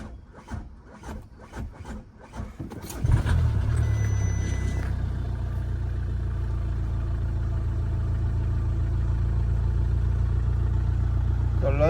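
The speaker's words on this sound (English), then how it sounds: "Let's see if it starts up with that new throttle body." An Audi A3 engine with a new throttle body cranks over briefly, catches and fires up, then settles into a steady, loud idle close by.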